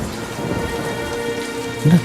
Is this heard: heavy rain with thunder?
yes